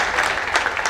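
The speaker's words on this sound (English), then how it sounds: "Clap for them once more, ladies and gentlemen." Audience applause follows a call for another round of clapping at a chairman's speech, a dense, steady wash of many hands that stays loud and even throughout the brief moment, with no talking over it.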